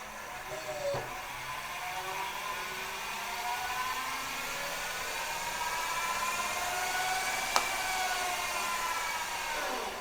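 The electric hub motor of a Goat Power mini e-bike, tilted and run on the throttle, gives a steady whirring whine that rises slowly in pitch, with a couple of faint clicks, at moderate loudness.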